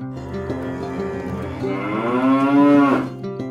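Cattle low and moo at a team penning cow sorting event, one long drawn-out call rising and swelling in the middle before fading, with a steady herd murmur beneath and no talk.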